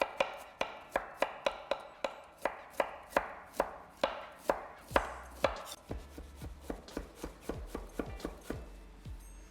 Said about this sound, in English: so I'll cut it in half and then just cut it into pieces